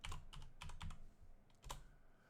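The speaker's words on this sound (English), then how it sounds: "So let's type a name." Fingers type a name on a computer keyboard in quick clusters of light key clicks, with a brief pause before a final few taps, close and quiet with no talk.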